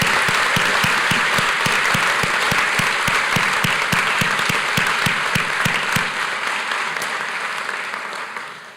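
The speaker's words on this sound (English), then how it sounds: "please join me in giving one more round of applause for all of our recipients this afternoon" Sustained applause from an audience at the close of a college academic and leadership awards convocation, dense clapping that holds steady then gradually fades toward the end, with no talk over it.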